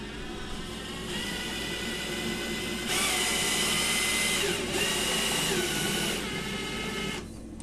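A metal milling machine's power feed runs with a continuous mechanical motor whine and grinding, growing louder and brighter midway before easing off near the end.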